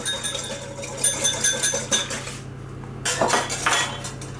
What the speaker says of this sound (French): Avec mon fouet, je mélange.